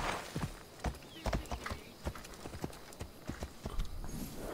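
Horse hooves clip-clop in Assassin's Creed Odyssey, a steady run of close, distinct hoof strikes with a brief whinny nearby and faint game ambience behind.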